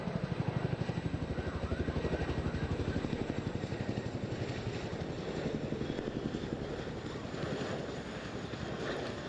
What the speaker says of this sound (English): Affects this massive helicopter far more than it does the jets